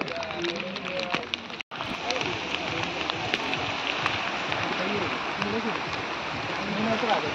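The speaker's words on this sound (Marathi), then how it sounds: "बघा पाऊस पण चालू आहे" Steady, dense heavy rain falling nearby at Sondai Fort near Karjat, a continuous rushing patter that carries through the whole stretch apart from one brief dropout.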